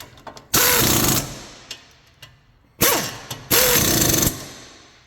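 Air impact wrench tightening caliper bracket bolts on a car brake, three loud hammering bursts of rapid rattling, each under a second, separated by softer clicks and handling noises, close by.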